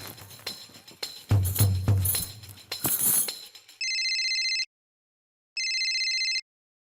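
After some nearby clatter and rustling, an outgoing phone call rings out as two clean, electronic ringback tones, each lasting under a second and separated by a short silence.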